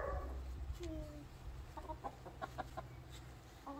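Backyard chickens on a small city farm in Australia cluck in short bursts and give a few soft squawks while sardines are tossed to them, with a steady low hum beneath.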